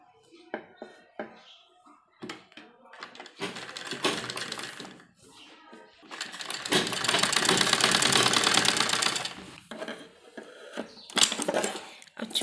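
A sewing machine stitches the armhole of a small baby dress for a 2–3 year old, with a steady whirring run for about three seconds in the middle, framed by short bursts of handling and clicks.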